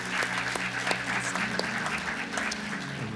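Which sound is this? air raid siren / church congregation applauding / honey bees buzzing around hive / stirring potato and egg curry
church congregation applauding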